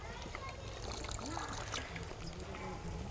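Water from a glass poured into a pot of country chicken curry, a soft continuous pour and trickle heard close but quietly for a few seconds.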